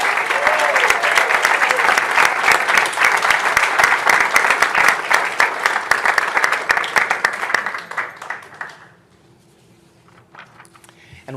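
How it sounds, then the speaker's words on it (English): A meeting audience applauds a group of employees marking 25 years of service, a lively round of clapping that thins out and fades to quiet near the end. "One more big round of applause for this great group"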